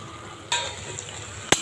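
Korma bhaji frying in a pan gives a soft background sizzle, broken by two sharp spoon scrapes against the pan about a second apart, close by and brief.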